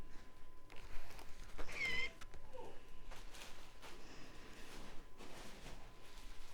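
A domestic clothes iron gives a brief, high cat-like mewing squeak, alone and moderately clear against a quiet room hum during sewing.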